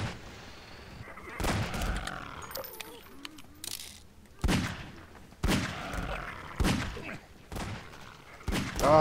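Gunshots in the video game Half-Life 2, set in Ravenholm: several sharp, separate weapon blasts, spaced a second or two apart, with mechanical clatter and game voices between them.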